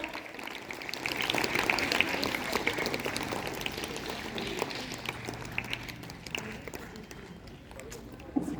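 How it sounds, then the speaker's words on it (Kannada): Applause for fifth-grade students who sang at a Kannada Rajyotsava special school assembly, a steady patter of many hands clapping at moderate loudness for several seconds before tapering off. "ಈ 5ನೇ ತರಗತಿಯ ಮುತ್ತು ಕಂಠದ ಮಕ್ಕಳಿಗೊಂದು ಪುಟ್ಟ ಚಪ್ಪಾಳೆ."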